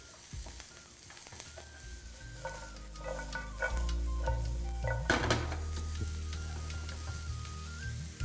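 Capsicum being tossed and stirred in a frying pan, sizzling steadily throughout with scraping stirs and a few clinks of utensil against the pan.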